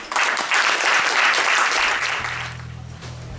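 An audience at a cultural evening applauds a trio of guitar, bass and drums with dense, fairly loud clapping that runs for about two seconds and then fades as an instrument starts to sound.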